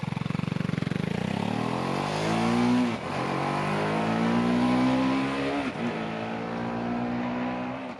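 A BMW G 310 R motorcycle accelerates hard. Its engine whine rises steadily in pitch, drops briefly at two gear shifts, then climbs again, loud and close with no voices.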